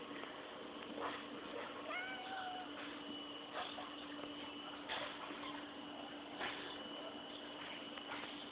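A domestic cat meows faintly a couple of times over a steady hum and low background noise, with no speech.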